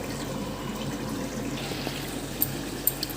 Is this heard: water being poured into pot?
yes